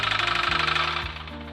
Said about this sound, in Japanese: 次かけると異音がしてるっていう状態になってしまったそうです